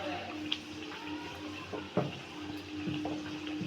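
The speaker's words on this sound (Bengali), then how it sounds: "দেখো কত সুন্দর ভাজা হচ্ছে" Oil crackles and sizzles steadily as vegetarian Mughlai paratha puffs up and fries, with a few sharper pops and faint kitchen clatter over the continuous hiss.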